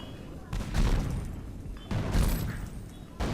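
Cannons fire in the LEGO Pirates of the Caribbean video game, three deep booming blasts about a second and a half apart, each with a rumbling tail.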